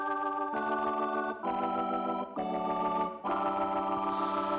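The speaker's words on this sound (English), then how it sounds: "That's my Hammond C3 that's in the other room there." Distorted Hammond C3 organ track plays sustained, gritty chords that shift every second or so, rich in buzzing overtones, heard alone at moderate level with no voices.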